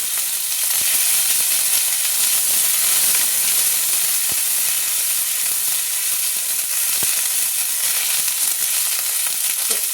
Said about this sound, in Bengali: আদা বাটাটা আমি একটু ভাজা ভাজা করে নিচ্ছি